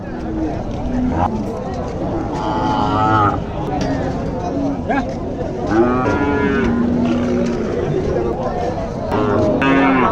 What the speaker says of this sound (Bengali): হাটে এসে গরু দেখতে শুরু করলাম আমরা